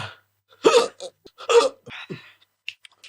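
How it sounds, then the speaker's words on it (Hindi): A man hiccups twice in quick succession, loud and close, with short breaths and small sounds in between, while eating something spicy. "डबल हिचकी आ रही है मुझे।"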